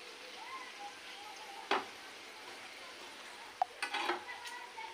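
Leaf-wrapped pitha frying in hot oil, a steady soft sizzle broken by a few sharp stirring clatters from a utensil against the pan.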